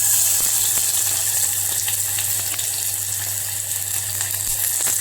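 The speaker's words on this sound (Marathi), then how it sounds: "तर आता तेल गरम झालंय। आता थोडंसं आता ह्याच्यामध्ये कांदा टाकूया।" Onion sizzles in hot oil in a pan for a mixed seasonal vegetable dish, a steady, bright, crackling fry with small pops, close and fairly loud throughout, with no talk.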